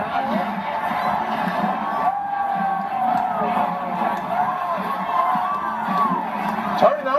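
A stadium crowd at a Michigan college football game roars and cheers continuously under a loud hum of voices, with occasional whoops rising above the dense, distant wash of noise.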